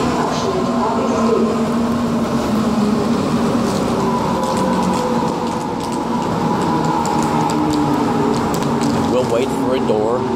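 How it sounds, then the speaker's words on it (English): A local S-Bahn train bound for Tutzing rolls into a small station near Starnberger See, a steady loud rumble with tonal hum and squealing brakes, while people talk over it. "here comes our train coming into our little train station"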